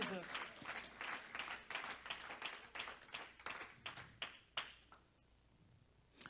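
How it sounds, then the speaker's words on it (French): A church congregation claps in a steady, rhythmic beat that is loud and fairly close. Voices call out over the clapping, which thins out and fades near the end. "clap for Jesus."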